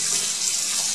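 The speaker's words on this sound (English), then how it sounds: "you should be able to hear the water running here" Water runs from a kitchen faucet and pours into the sink drain as a steady, close hiss with no voices.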